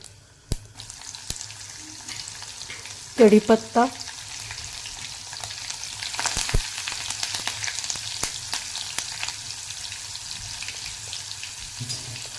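Hot oil sizzles and crackles steadily as mustard seeds pop in a pan, with a few sharp clinks and a brief spoken word early on.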